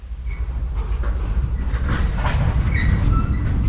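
London Underground trains rumble in the simulator Tube Sim, a continuous loud low roar of wheels on track with faint squeals and clattering rising through it.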